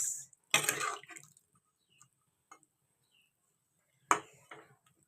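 Water is poured into a cooking pan in two short, splashy pours separated by a quiet gap, with a few faint drips in between, close by and with no talk.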